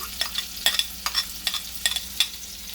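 Chopped onion tossed into hot oil with cumin seeds, a soft background sizzle broken by several close, quick stirring scrapes in an uneven rhythm.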